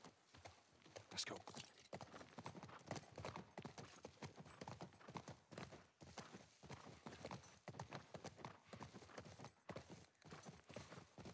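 Horse hooves clip-clop in The Last of Us game as the horse walks on a university campus, a steady rhythmic clopping heard close with some faint speech over it.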